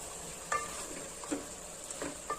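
A pan of mushroom curry with cauliflower softly sizzles as the vegetables are stirred, with a few light scrapes and taps of a spoon over a steady hiss. No voices.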